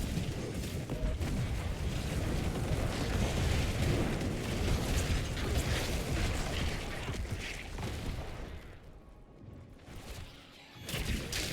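Corpse explosion ability in the Diablo 4 video game, heard as a dense, continuous roar of booming blasts and crackling bursts that stays loud throughout, thinning briefly near the end before a final burst.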